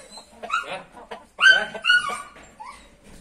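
A dog gives a few short, close barks and yips mixed with whimpering, in brief bursts separated by pauses.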